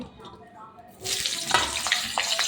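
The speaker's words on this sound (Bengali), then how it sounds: "আমি এবার আলুটাকে ভাজবো হালকা করে আলু দিয়ে দিচ্ছি" Diced potatoes hit hot oil. After a quiet second a bright sizzle bursts up and keeps crackling steadily nearby.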